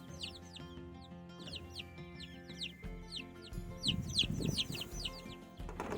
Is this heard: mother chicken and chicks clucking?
yes